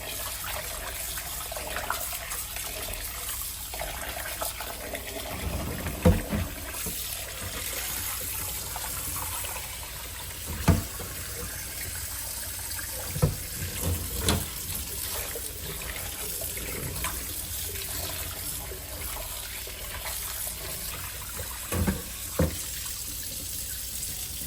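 A kitchen tap runs steadily while chunky cut potatoes are washed, a constant splashing stream broken by occasional clunks and knocks of handling.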